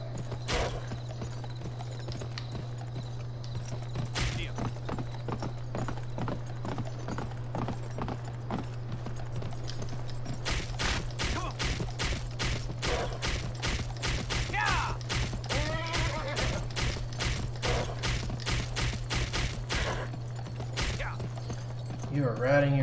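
Video game horse hooves clatter in a steady galloping rhythm over a constant low hum, growing busier partway through, with occasional thumps and game-like effects.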